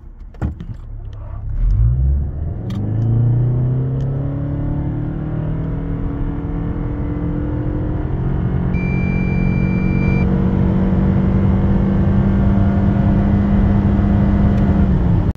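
Toyota Camry 2.5 Hybrid 230 hp with e-CVT accelerating hard in a full-throttle test, engine note rising and then holding a steady high drone with tyre and road roar, loud and close throughout.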